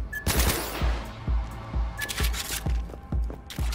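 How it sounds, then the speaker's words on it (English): Pistol fire in the video game Cyberpunk 2077: a rapid series of sharp, punchy shots in quick bursts, loud and close, with a few brief metallic clicks between volleys. "This is a weird looking pistol."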